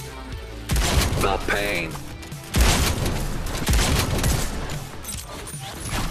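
Shotgun blasts in the VR game Robo Recall, heavy booming shots in two loud bursts amid clattering game effects, with a synthetic voice speaking briefly.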